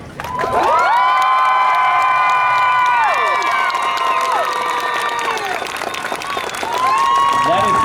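A convention audience cheers for cosplayers on stage, loud sustained applause with high whoops and shrieks from many voices, near and continuous throughout.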